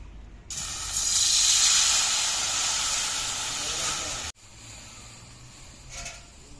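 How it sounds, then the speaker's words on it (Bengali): Water poured into a hot kadai (wok) to steam banana stem gives a loud, steady hiss for about four seconds, which then cuts off abruptly to a quieter simmer. "থোরটা ভাপিয়ে নেব তার জন্য কড়াইতে জল দিয়ে দেবো"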